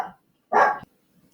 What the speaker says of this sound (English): Sorry about my dogs.